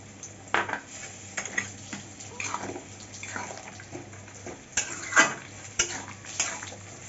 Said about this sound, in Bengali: ডালের বড়িগুলো ভেজে রেখেছি সেগুলো দিয়ে দিচ্ছি